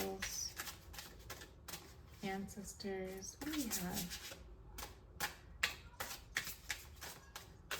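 Oracle cards being shuffled by hand in a series of quick papery riffles and taps, close up, with someone speaking between and over the shuffles.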